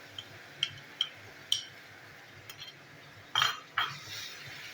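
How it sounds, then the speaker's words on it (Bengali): Onion paste stirred in hot oil in a kitchen pan, with several sharp utensil clinks and scrapes spaced irregularly, close and fairly quiet, with no talking. "পেঁয়াজটা তেলে নাড়াচাড়া করে নেবো।"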